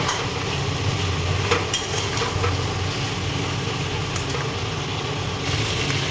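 Ground mustard and poppy seed paste being stirred into a drumstick vegetable curry, with a steady soft sizzle and scraping of the spoon in the pan, close and continuous, no talking.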